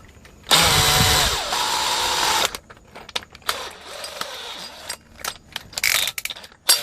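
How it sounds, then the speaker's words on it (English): A power drill whines at high speed for a couple of seconds while drilling through a wall during an air conditioner split system installation, then short intermittent bursts, clicks and rattling handling noises nearby. "drill the hole from the outside inwards now"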